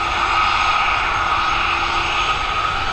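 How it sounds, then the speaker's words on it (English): An arriving aircraft on approach to the North Runway at Dublin Airport produces a steady, loud engine roar with a whining tonal hum, continuous and unbroken throughout. "Arrivals, as you can see, still coming in on the North Runway."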